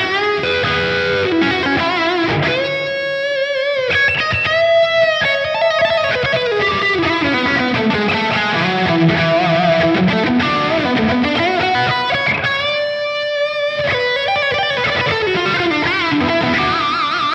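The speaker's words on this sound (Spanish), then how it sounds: "Agregamos un pequeño efecto de reverb." An electric guitar played through a Line 6 POD GO multi-effects unit with a small reverb effect, ringing distorted chords and melodic lines that sustain and blend for several seconds, loud and on its own without talk.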